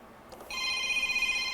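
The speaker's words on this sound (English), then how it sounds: "And the phone is ringing." A telephone starts ringing during an MRI system board diagnostic session, its steady electronic trill rising after a soft rustle and holding clearly, moderately loud, with no talk over it.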